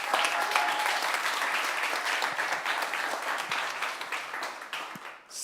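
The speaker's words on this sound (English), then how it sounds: "And round of applause" Audience applause at a pitching event, a dense steady wash of many hands clapping that holds strong for about five seconds and then fades toward the end.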